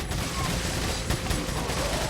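Rapid, dense automatic fire from a TMP submachine gun in Resident Evil 4, a continuous loud rattle of shots with little pause.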